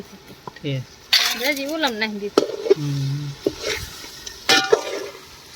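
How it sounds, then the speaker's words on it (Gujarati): A spoon scrapes and clinks in a pan while tempered dhokla pieces are stirred through tomatoes in hot oil. Sharp utensil knocks repeat under a steady sizzle, and a voice talks over it. "હવે આને સારી પેટ હલાવીને પછી ઉતારી લેવાની"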